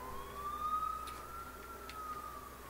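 An ambulance siren in the video game GTA 4 gives a single long, slowly rising and falling wail, fairly faint and distant over a low background hum.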